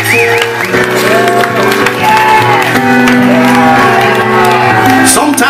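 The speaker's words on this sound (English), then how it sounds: "Give yourselves a large round of applause." Loud live concert crowd at a show, clapping steadily and cheering with shouts and whoops, a dense wall of applause that holds for several seconds.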